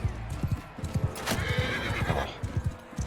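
A horse in a Mount & Blade 2: Bannerlord battle neighs loudly while its hooves clop in quick, uneven beats, close and clear, with no talk.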